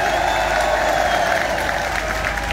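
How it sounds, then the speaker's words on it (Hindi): A large crowd at a poetry mushaira in Rajasthan gives loud applause for the Karauli administration, steady dense clapping with a few scattered cheers. "एक बार जोरदार ताली करौली प्रशासन के लिए।"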